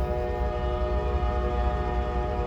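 A passing train sounds a long, loud, sustained horn close by, its rich, steady tone over rumbling rail noise with no one talking.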